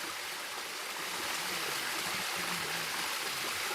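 Creek water rushes over a gold panning scooper held in the current, a steady close hiss of flowing water with no talking.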